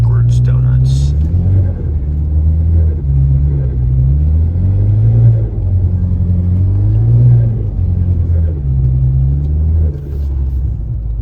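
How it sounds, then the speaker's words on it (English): Ford Focus ST doing backwards donuts in snow, its engine humming and rumbling steadily close by with rising and falling revs throughout, loud and continuous, with no talk heard. "Another thing that works good is backwards donuts."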